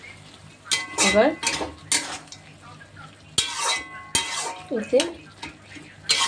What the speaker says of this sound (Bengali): বড়িগুলো দিয়ে একটু বেশ করে নাড়াচাড়া করে